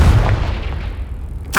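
A Confringo blasting spell in the video game Hogwarts Legacy, one loud booming blast with a long rumbling decay, followed by a brief sharp burst at the end.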